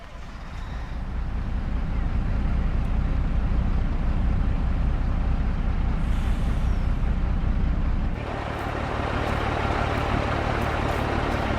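A truck in the video game Farming Simulator 22 rumbles at a steady, loud idle throughout, with its engine note shifting and growing harsher about two-thirds of the way through.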